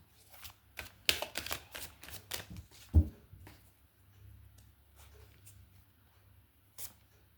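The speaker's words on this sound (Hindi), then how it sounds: "एक लास्ट शफल" Tarot cards being shuffled by hand, a run of quick papery riffles and taps close up, with one sharper knock near the middle and quiet after.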